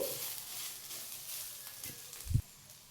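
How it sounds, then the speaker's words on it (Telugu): Spring onions and peanuts fry in a pan with a soft, steady sizzle and hiss close by, with a brief low knock near the end. "కొంచెం మగ్గిని చేద్దాము అదంతా వేపుడు అవుతుంది"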